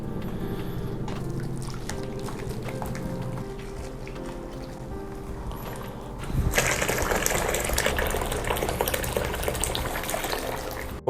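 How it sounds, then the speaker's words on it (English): Hot water from a kitchen is poured into a tub, first as a low trickle and then as a loud, steady gushing pour that lasts to the end, with no one speaking. "So I will be filling this tub with hot water, which I will take from my kitchen."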